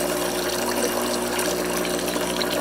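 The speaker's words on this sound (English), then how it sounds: "And now let's run the pump." A Saeco Vienna Plus espresso machine's water pump hums steadily with a constant mechanical drone over a rushing, trickling flow of water, close and continuous.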